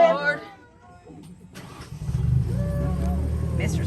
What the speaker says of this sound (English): we will get this engine fired up